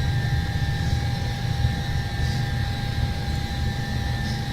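A DC-9 airliner's jet engines run at a steady taxi idle in Flight Simulator X, heading for runway 19R at Stockholm before a trip to St. Petersburg: a continuous close roar with a thin, constant whine, with no talk.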